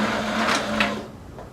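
A sewing machine running a straight stitch along a skirt hem, a brief steady mechanical whir with a rhythmic needle pulse, fairly quiet and fading at the end.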